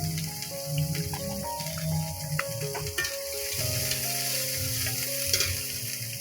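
Garlic, chopped onion and nigella seeds fry in a pan; a steady, close sizzle runs throughout, with the scrape and clink of stirring breaking through now and then.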